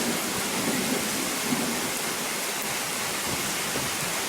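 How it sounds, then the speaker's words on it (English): Steady rain falls almost straight down with little wind, a constant broadband hiss at moderate level near a horse area, with no talk and no clear thunder. "the rain was coming kind of straight down"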